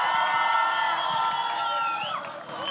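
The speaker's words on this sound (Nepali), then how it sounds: "जोरदार ताली।" An audience at a festival performance in Nepal cheers and claps, a loud sustained crowd roar with whoops and shouts that fades slightly near the end.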